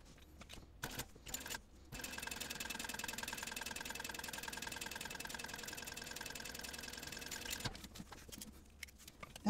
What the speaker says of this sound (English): now I'm going to sew it right on the edge of this edge here of my binding